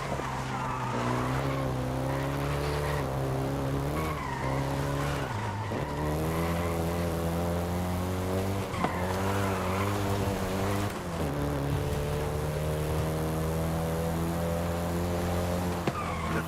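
A front-wheel-drive Volkswagen Golf GTI drifting in Forza Horizon 5, a steady engine roar rising and falling through gear changes with tire squeal and skidding, loud and continuous.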